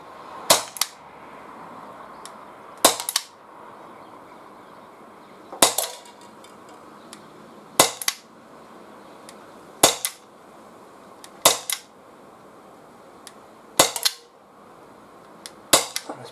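A Walther PPQ M2 .43 caliber paintball pistol fires rubber balls at a tin, eight sharp cracks spaced a couple of seconds apart, each ending in a brief metallic ring, with no talk between them.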